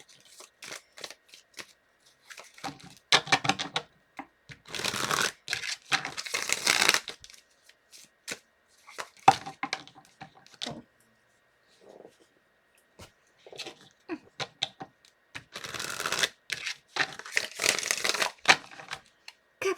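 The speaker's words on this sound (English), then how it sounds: "Let's do 3 shuffles." Tarot cards are shuffled by hand in quick papery bursts of riffling and sliding, close and crisp, split by short silent pauses between about three rounds.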